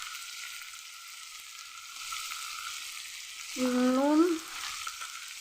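Mixed greens (pipul shak) sizzle steadily while being fried and stirred in a pan, a continuous close hiss with a short spoken word partway through.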